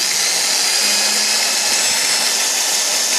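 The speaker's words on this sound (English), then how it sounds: "I'm going to drill this here." A power drill bores into a carbon fiber roof skin on an AMS Evo 8/9, a loud, steady, close-up high whine that runs unbroken throughout with no talking.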